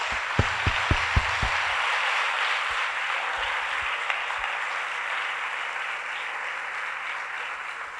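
A church congregation applauds during a Hindi-language sermon: a few sharp individual claps at first, then dense sustained clapping from a large crowd that continues steadily throughout.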